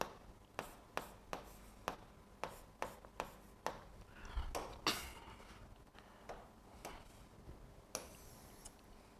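Chalk or marker strokes on a board during an engineering mathematics lecture: a steady series of short sharp taps and scrapes, about one per second, close and fairly quiet, with a brief rubbing passage midway.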